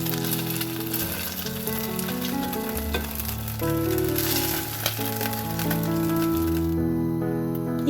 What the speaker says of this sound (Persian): وقتی مرغا خوب سرخ شد از تابه در میاریم.